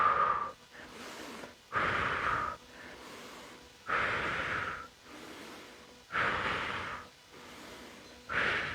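Close, audible breathing during an arm exercise with weights, with slow, deliberate breaths alternating between strong, airy exhales and softer inhales in a regular rhythm, without speech.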